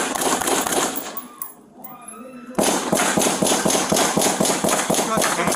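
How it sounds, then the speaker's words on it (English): Gunfire during a police shootout, with a suspect armed with a shotgun: loud repeated shots in rapid bursts, a brief lull, then a dense run of cracks, with voices shouting. "Shots fired!"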